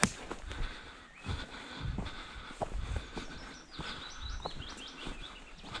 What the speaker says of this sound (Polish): Ptaszki ćwierkają.